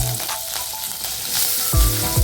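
Curry leaves dropped into hot oil with popped mustard seeds and green chillies crackle and sizzle loudly up close, with a sharp burst of frying near the end and a spoon stirring through, no voices.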